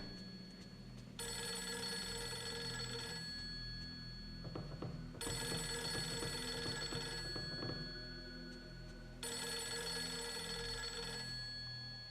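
A telephone in Fatal Frame 3 rings in three long electronic bursts with quiet gaps between them, fairly clear and alone, while a muffled low hum and faint background noise sit underneath.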